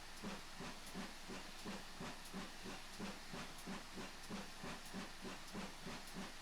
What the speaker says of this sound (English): So a little bit of a waste of steam here.